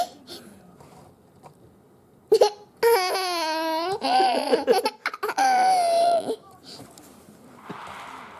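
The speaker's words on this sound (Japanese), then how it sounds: "しゃっくりが出るよね。" A young girl hiccups several times in a quiet indoor room, sharp little catches close by, mixed with her high laughing and babbling and an adult's loud laughter.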